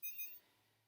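Electronics on a Tekno SCT410.3 RC short course truck beep as they engage: two quick, high, bright tones close together, then a faint low hum carries on alone.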